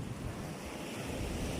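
Ocean waves and surf churned up by Typhoon Uwan at Barangay Tambongon, a dense roaring rush mixed with gusting wind noise, continuous and fairly close throughout.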